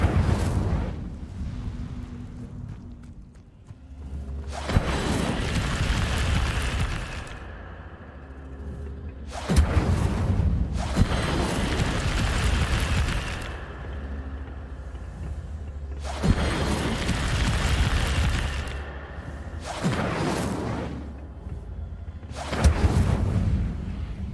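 Incendio fire spell cast in Hogwarts Legacy, repeated loud roaring fiery bursts that each swell and fade, several in sequence with short gaps, no talking.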